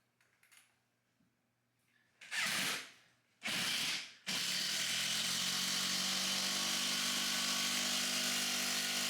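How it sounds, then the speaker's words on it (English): A power drill or driver runs in two short bursts while the last screws go in during an installation, then settles into one long continuous whir, close and loud. "I'm just going to finish putting in the last screws for this one here"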